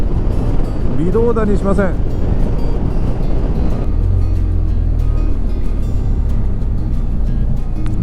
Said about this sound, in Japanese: 風がやっぱりね結構強いですけど